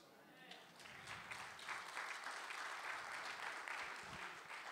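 A church congregation claps steadily in sustained applause through a full, even stretch, with faint voices mixed in.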